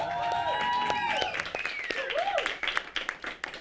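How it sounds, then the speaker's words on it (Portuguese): A crowd applauds a band after an announcer's call, with clapping building up under his voice and then carrying on as scattered, irregular claps, some of them close. "uma salva de palmas para nossa banda!"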